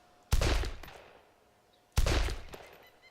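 Two loud, close rifle shots in the survival game DayZ, each a sharp crack with a long decaying echo, spaced about a second and a half apart over quiet outdoor ambience.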